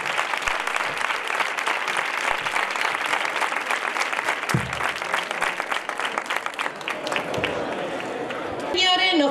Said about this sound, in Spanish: Un fuerte aplauso para estas dos reinas